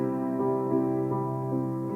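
Soft piano playing a song, with gently repeated notes ticking along quietly beneath sustained chords, even and subdued throughout.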